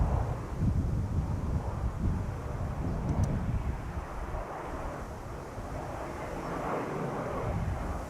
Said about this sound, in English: Coast Guard, dash 8 100. There it is.